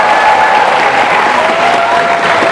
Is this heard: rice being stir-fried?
no